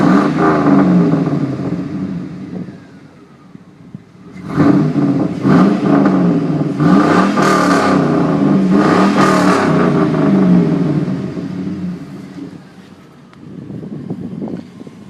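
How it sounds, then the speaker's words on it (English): A 2005 GMC SLT pickup truck with straight-pipe exhaust revs in loud, rumbling bursts. The engine surges, drops back to idle, climbs again in a long rev, then eases off and rises once more near the end. "Let you see what the exhaust sounds like."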